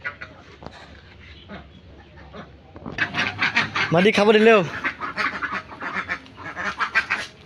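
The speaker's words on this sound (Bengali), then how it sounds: "দেখেন এখন আমি হাঁসগুলোকে খাবার খাওয়াবো।" Ducks quack loudly in an excited burst while being fed beside goats at a rural home, with overlapping calls over several seconds and a person talking throughout.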